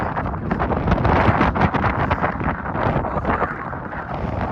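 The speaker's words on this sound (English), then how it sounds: "It's freezing cold and very windy" Strong, freezing wind on a hiking trail from Wild Horse Pass to Landslide Lake roars and buffets the microphone continuously, a loud, rushing, rumbling noise with no voices.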